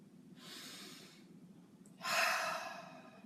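Two slow, deep breaths, a long airy inhale followed by a louder, stronger exhale, close and quiet otherwise.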